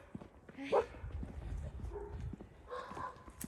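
A dog barks in a short burst near the start, with a few more yips later, over background commotion and people talking near an abandoned house.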